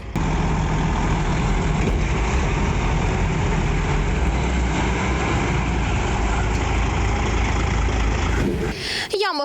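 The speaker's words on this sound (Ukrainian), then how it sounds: "у грунтовій вирві за іронією долі застрягла вантажівка дорожньої служби" A road service truck stuck in a dirt crater on an unpaved bypass road, its engine idling with a steady low rumble throughout, ending with a brief clatter.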